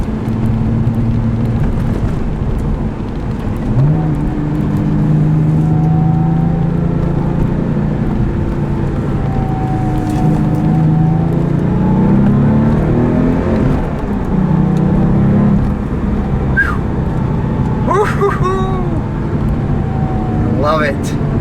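A Porsche 911 Turbo Cabriolet engine pulls hard through S-turns, a loud continuous drone rising and falling in pitch as it accelerates, heard from inside the car with wind and road noise, and a voice cutting in briefly.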